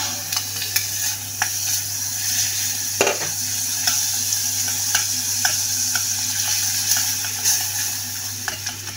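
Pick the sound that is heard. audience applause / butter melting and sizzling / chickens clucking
butter melting and sizzling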